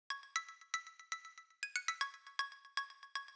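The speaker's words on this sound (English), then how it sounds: "And it's a cowbell basically" A bright, metallic cowbell sample layered over a kick drum hits in a quick repeating dance rhythm, each strike crisp and short, playing alone at moderate volume.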